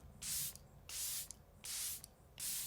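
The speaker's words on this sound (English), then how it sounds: "This is a phenomenal setting spray. So I'm going to thoroughly coat my entire face with this" Four bursts of makeup setting spray misted over a face, each a soft, close hiss lasting about half a second, evenly spaced with short quiet gaps.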